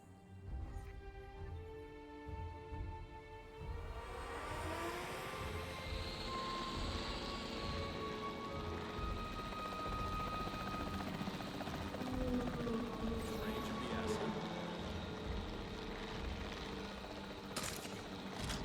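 A capture team helicopter in Jurassic World Evolution 3 flies steadily and continuously, its rotor and engine drone swelling and sweeping in pitch over a sustained, fairly loud stretch with no talk.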